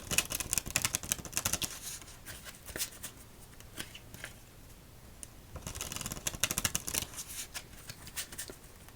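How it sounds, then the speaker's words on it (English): Playing cards being shuffled for a solitaire game, heard close up as two dense bursts of crisp riffling and flicking, one at the start and one near the end, with softer card handling in between and no talking. "I gotta give an extra shuffle since it was in a winning order."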